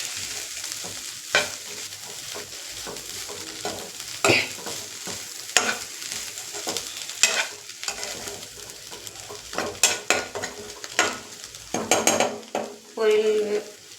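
Vegetable poriyal with greens stir-fried in a pan: a steady sizzle under repeated scraping strokes of a spatula, with sporadic louder clanks of metal on metal growing busier toward the end.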